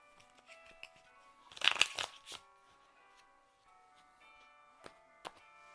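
A deck of tarot cards being shuffled close by, a quiet riffle building to a brief burst of flicking in the middle, then a few isolated taps and soft ticks in an otherwise quiet room.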